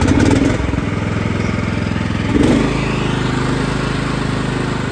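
A Craftsman LT2000 lawn tractor engine cranks briefly, then catches and runs in a steady, close, fairly loud putter with a mechanical clatter, holding an even rhythm alone without talk.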